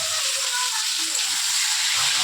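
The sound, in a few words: potato, papaya and flat beans frying in a pan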